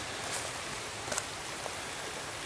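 Rain falls steadily outdoors, a soft even hiss of drops with a couple of slightly louder patters near the middle.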